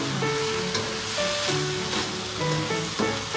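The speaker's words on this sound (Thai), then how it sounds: "ใส่ ผักกะหล่ำค่ะลงไปเลย ผัดให้เข้ากันสักครู่" Shredded carrot and cabbage are stir-fried in a pan, giving a loud, continuous close sizzle with scraping and stirring clatter on top, without talking.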